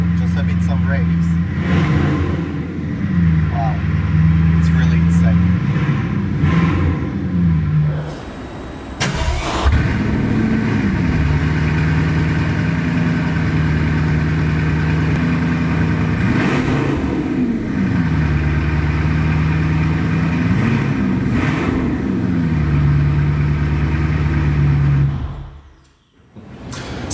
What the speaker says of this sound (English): Wow, the engine sounds very, very loud.